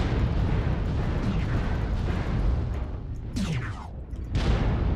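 Heavy cannon fire and explosions roll out in a MechWarrior Online battle, several deep booming blasts overlapping into a dense rumble, with sharper bursts near the end.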